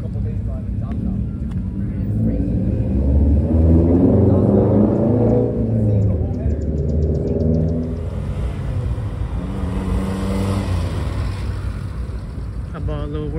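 A Toyota Supra with a newly fitted aftermarket exhaust rumbles deep and steady at a small cars-and-coffee meet, swelling louder midway and then settling. Someone talks over the engine noise.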